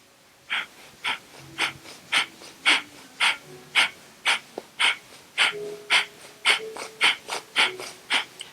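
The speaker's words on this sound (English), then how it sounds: "take a deep breath in and just punch it out. Just punch that breath out" Forceful, rhythmic breath exhalations during yoga breathing, about sixteen short puffs in an even pulse, close and moderately quiet with no talking.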